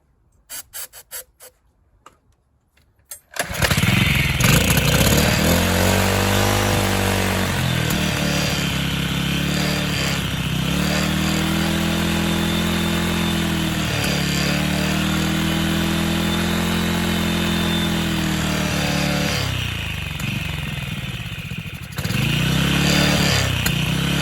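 A faulty string trimmer's small two-stroke engine starts after a few pulls, then runs loud and steady, its pitch rising and falling as the throttle is worked by hand.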